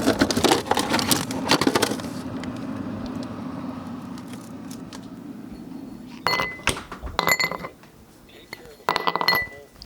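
Ice cubes clink against a glass of Daily Bell scotch in short bright bursts, clustered at the start and again later, separated by a quieter stretch of low background murmur.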